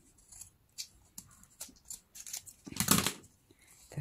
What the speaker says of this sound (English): I'm gonna take my scissors and cut it